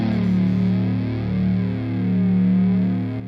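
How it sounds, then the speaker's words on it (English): MIDI guitar set up as a bass through distortion gives a sustained, thick, buzzing low note rich in overtones, loud and steady with a slight swell before stopping abruptly. "So if I increase the distortion here, which also brings out the overtones."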